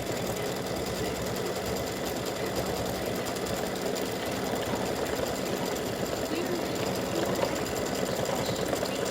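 An embroidery machine stitching background hearts on a Valentine gnome mug rug, with a continuous fast, even mechanical chatter of the needle running close and steady throughout.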